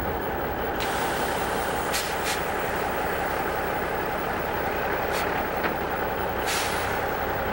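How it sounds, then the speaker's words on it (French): A truck trailer's air brakes are applied: several sharp, brief hissing bursts of released air cut through a steady low engine idle, spaced irregularly over a few seconds. "On envoie la pression dans tout le système et on applique les freins de la remorque."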